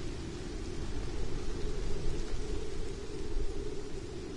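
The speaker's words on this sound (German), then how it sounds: "Es regnet zwar etwas." Steady rain hisses in the horror video game Detention, a dense, even wash of noise with a low rumbling undertone, constant and moderately loud.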